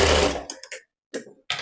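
A sewing machine stitches a blouse shoulder seam in one loud burst of about half a second, followed by a few brief, quieter mechanical clicks and taps.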